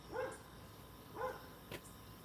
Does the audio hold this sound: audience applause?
no